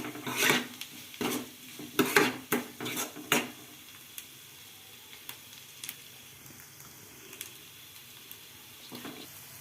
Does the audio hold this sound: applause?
no